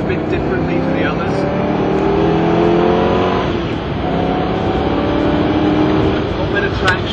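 Mid-engine Ford GT sports car accelerating hard in second gear, a loud, steady engine roar with rising harmonic tones that holds throughout.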